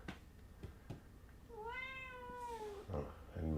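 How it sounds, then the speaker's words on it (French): A house cat meows for food in a long, rising-and-falling call, close by and fairly quiet, with a few soft knocks and rustles before it and a brief voice right after. "voilà le chat qui arrive pour demander à bouffer."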